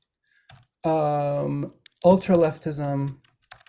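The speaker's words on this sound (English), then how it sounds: "I'm typing these in the chat." Sparse clicks from typing on a computer keyboard come and go between the sentences of a person speaking close to the microphone.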